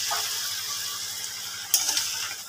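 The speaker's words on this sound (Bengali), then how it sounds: "এবার আমি জল অ্যাড করে দিলাম" Bhetki fish bones cooking in spiced oil give off a soft, steady sizzle, with a brief splash and hiss as a little water is poured into the pan near the end; no one talks.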